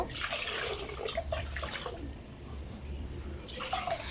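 Water poured into mashed lentils in a clay pot for a small-fish stew, a steady splashing pour that runs for several seconds, eases off midway and then picks up again near the end.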